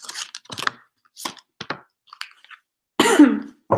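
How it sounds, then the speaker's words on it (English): One person coughs and clears their throat in a run of short, close, dry bursts with pauses between them, ending in a louder, harsher cough. "Sorry for my cough."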